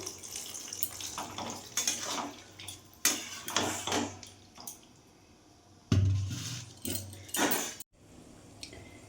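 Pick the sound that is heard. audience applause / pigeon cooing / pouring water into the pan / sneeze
pouring water into the pan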